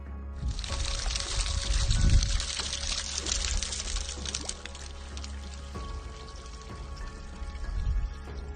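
Water runs steadily through an ancient carved stone channel, a continuous broadband pouring and trickling that stays close and fairly loud, with a brief swell partway through and no talking.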